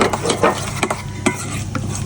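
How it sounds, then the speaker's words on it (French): Caesar salad dressing being whisked together with mayonnaise in a bowl, a steady close scraping and swishing of a utensil with soft clinks against the bowl and rhythmic strokes, no voices. "on mélange bien"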